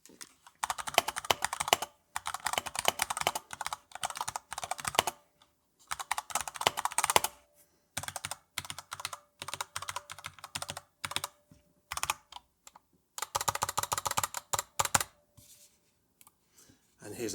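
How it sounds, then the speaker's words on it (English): Rapid bursts of key presses on an Alienware AW920K tri-mode wireless gaming keyboard, close and crisp, coming in quick runs separated by short pauses. "do a very quick typing test so you can hear the actual key presses"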